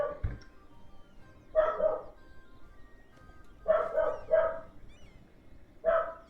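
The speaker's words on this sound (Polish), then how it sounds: "Będę przekrzykiwał psa, tak jest moja taktyka." A dog barks in four short bursts spaced a couple of seconds apart, fairly close, with quiet gaps between them and no talk.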